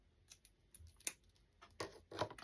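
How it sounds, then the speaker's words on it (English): A tag being cut off with scissors for a Christmas centerpiece: a few faint, scattered snips and small clicks in a quiet room, with no one talking. "Let's cut the tag off."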